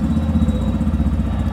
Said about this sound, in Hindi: सो जब आप सेल्फ लगाते हैं सो बाइक की जो आवाज़ है वो कुछ ऐसी निकल के आती है